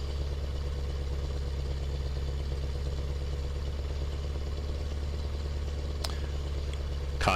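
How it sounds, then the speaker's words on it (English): A straight-piped truck engine in Euro Truck Simulator 2 drones steadily and loudly throughout, a constant low rumble with no speech over it. "That truck seems loud"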